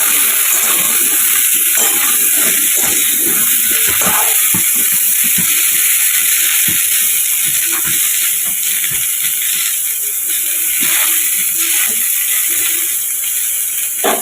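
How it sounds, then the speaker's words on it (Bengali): Potato pieces and pointed gourd fry in a pan, giving a loud, steady hiss with a constant high tone and scattered soft crackles and scrapes, with no talking. "আলুটা দিয়ে দিয়ে সাথে একসাথে ভাজবো।"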